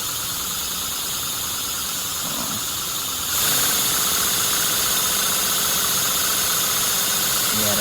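Close-up exhaust of a small inline four-cylinder model engine running on compressed air, a steady rapid chuffing hiss that gets louder as the exhaust is neared, with brief talk underneath.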